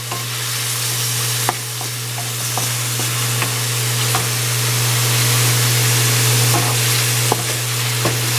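Chicken sizzles and fries in a pan for fried rice, a steady loud crackle with occasional sharp pops and stirring clinks, no talking.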